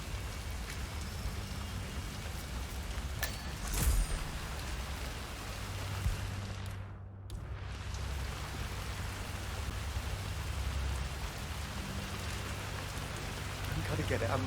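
Steady rain pours in a Hitman 3 level set in China, a dense continuous hiss of drops on surfaces that holds throughout, with a few sharper splashes and a brief dip near the middle.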